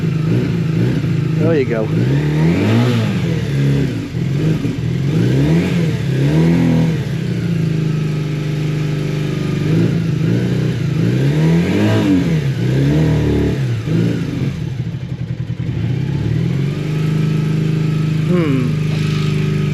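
An old motorcycle, just woken after standing parked, revs and stutters as the throttle is cranked open, its engine note rising and falling in repeated uneven surges, loud and close, with people talking over it.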